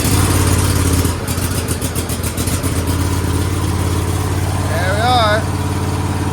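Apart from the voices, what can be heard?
Cub Cadet Super LT 1554 riding lawnmower engine idling rough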